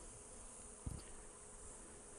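Honey bees in a Flow Hive give a steady, dense buzz throughout, close and even, with a couple of brief low knocks near the start and no talking.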